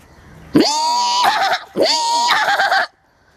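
A person imitates a horse's neigh: two loud, close whinnies, each a rising cry that breaks into a shaky, quavering trill, followed by quiet.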